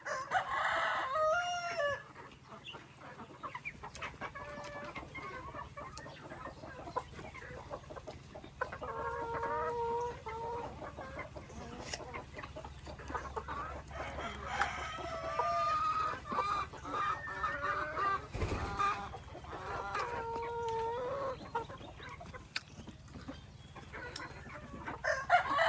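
Chickens cluck and a rooster crows repeatedly over a steady farmyard hum at a building site in Subic, Philippines, the calls rising and falling close by for the whole stretch.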